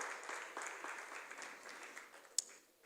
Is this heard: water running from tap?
no